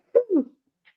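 One close, brief sneeze in two quick voiced bursts, followed by silence.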